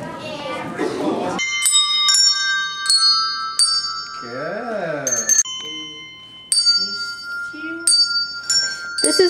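Handbells ring out one at a time in a simple tune, each bright metallic strike ringing clearly and decaying, with a voice briefly heard in between.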